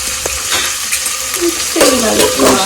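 Chicken curry stirred in a pan, with a steady sizzle of frying and scraping scrapes and clinks of a spoon against the metal, loud and close.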